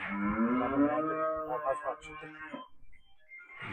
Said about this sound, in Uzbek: Mana shular mana sigirlar